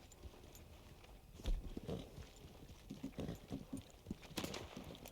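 Horse hooves clip-clopping across dusty ground in a western video game, with a rhythmic run of fairly faint hoofbeats that grows steadier after a brief louder thump.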